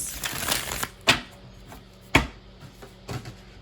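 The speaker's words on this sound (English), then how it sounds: "Shuffle out some cards from a Yogic Path Oracle deck by Sahara." Yogic Path Oracle cards shuffled by hand, a soft continuous riffle broken by a few sharp slaps and taps as cards are cut, close and quiet with no talking.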